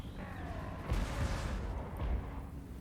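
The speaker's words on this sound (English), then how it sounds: "That is plenty of cannon." Cannon artillery fire in a Total War: Warhammer multiplayer battle, two deep booming shots about a second apart over a steady roar of battle noise.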